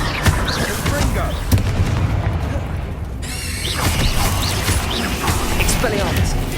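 Blasts of the Confringo explosive fire spell in Hogwarts Legacy on PS5 boom and crackle through a dense, loud combat mix, with repeated impacts, squeals and clatter layered over one another.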